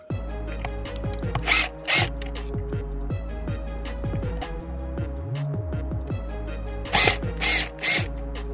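A cordless drill or screwdriver backs out screws on the blower motor regulator of a Mercedes-Benz C-Class, with short rising-and-falling motor whirs and a few sharp ratcheting bursts in between, close up and fairly quiet.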